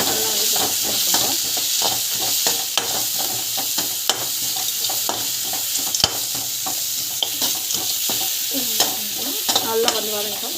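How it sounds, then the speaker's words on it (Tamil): Sliced bitter gourd with chilli powder frying in hot oil, a continuous bright sizzle broken by repeated scraping and clinking of a spatula stirring the pan, close and steady throughout. "பாவக்காய் வந்து ஆட் பண்ணி நல்லா வந்து வதங்கும். இது வந்து பார்த்திங்கன்னா அந்த எண்ணெயில் வந்து நல்லா ஃப்ரை ஆகணும்."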